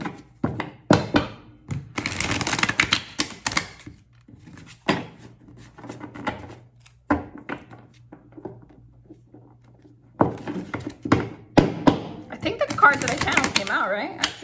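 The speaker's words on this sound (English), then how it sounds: "I gotta shuffle again, man" Large tarot cards are shuffled and tapped in irregular bursts of papery slaps and soft thuds, close by, with pauses and a voice speaking now and then.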